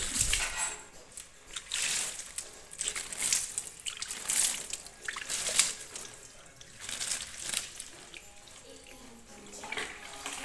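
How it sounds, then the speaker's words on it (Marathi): Water is poured over the leaves of potted flowering plants, splashing and pattering in uneven surges and pauses, close by and fairly soft. "आता वरून पानांनासुद्धा घालायचं पाणी म्हणजे पानं चौकटी तशी होतात धुतली जातात"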